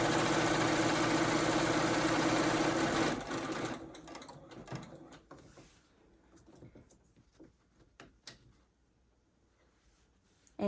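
A sewing machine stitches quilt fabric with a loud, fast, steady whirring run for about three seconds, then stops, leaving faint handling clicks and rustles of the quilt being adjusted.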